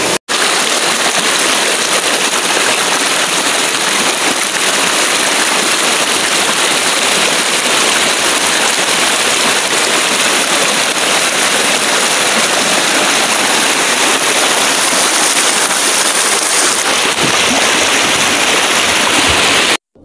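A strong river current rushes loudly and continuously, a dense, roaring wash of water close at hand that stays steady until it cuts off abruptly at the end.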